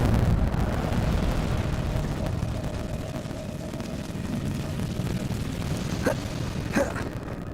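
The Incendio fire spell cast in Hogwarts Legacy, a loud roaring whoosh of flame that rumbles on for several seconds, with a couple of sharp crackling snaps near the end.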